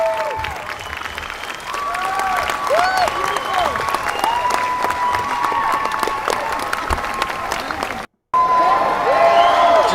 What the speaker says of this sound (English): Just a whole lot of applause.